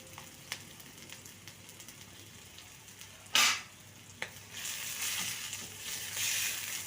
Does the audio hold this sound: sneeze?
no